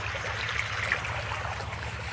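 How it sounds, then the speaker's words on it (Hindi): Tubewell water pours steadily from a pipe into a rice paddy. The rushing, gurgling flow is continuous and close, and no voices are heard. "ये पाइप लगी हुई है, ट्यूबवेल का पानी आ रहा है"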